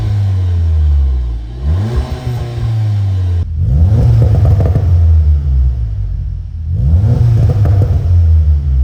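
A car fitted with an aftermarket exhaust revs hard three times, each rev climbing to a loud throaty roar before dropping back to a deep rumbling idle, close and alone.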